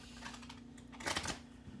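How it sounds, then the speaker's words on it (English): Large-size tarot cards being shuffled by hand, a brief papery riffle and flutter of stiff cards that peaks in the middle, close and moderately quiet against a steady low hum. "these cards don't want to shuffle very well."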